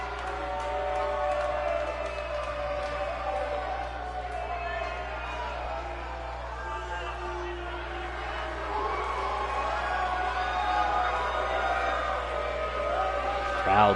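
At a wrestling supercard, an arena crowd cheers and whoops steadily beneath a commentator's talk. A broad roar of babble and shouts holds throughout and swells near the end.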